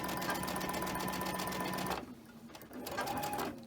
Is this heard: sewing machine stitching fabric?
yes